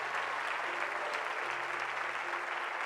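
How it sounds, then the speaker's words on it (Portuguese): A church congregation claps loudly and continuously, dense steady applause from a large crowd filling the whole stretch. "Aplauda Ele bem forte"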